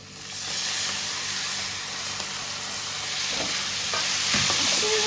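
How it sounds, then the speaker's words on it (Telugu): Tomatoes frying with onions in a pan give a loud, steady hiss and sizzle with occasional stirring clinks near the end and no talk. "టమాటో ఫ్రై అవుతా ఉంది"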